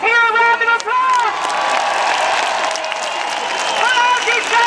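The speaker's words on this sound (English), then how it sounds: "Let's hear a round of applause." An outdoor protest crowd bursts into loud cheering and clapping with whistles and shouting, a sustained, close roar of many voices and hands.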